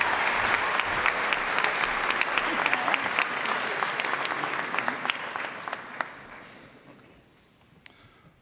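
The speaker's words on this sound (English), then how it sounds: "How about a round of applause for Ellie Schneider?" A crowd at a university honors convocation applauds steadily, the clapping gradually fading over the last few seconds until only a couple of stray claps remain.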